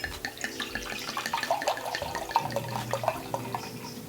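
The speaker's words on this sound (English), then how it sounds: "Let me first pour my wine." Wine pouring into a delicate stemmed glass, a close, quiet trickling with small gurgles and clinks running steadily, with no talk.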